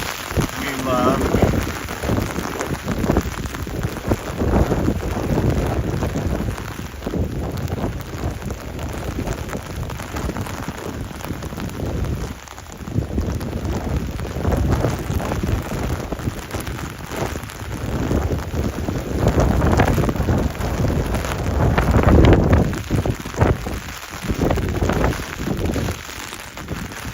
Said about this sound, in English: it's not only raining, it's the wind that makes it tough